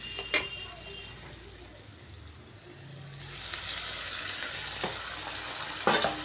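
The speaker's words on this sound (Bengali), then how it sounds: "এখন মাংস কষাবো মশলাটা ভাজা হয়ে গেছে" Meat being sautéed in a pan with fried spices gives a steady, moderate sizzle with occasional stirring scrapes and clinks of utensils against the pan.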